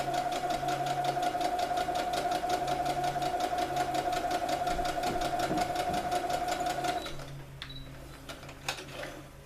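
A sewing machine runs a quarter-inch seam to finish a French seam on fabric, a steady close mechanical whir for about seven seconds before stopping and giving way to quieter handling sounds.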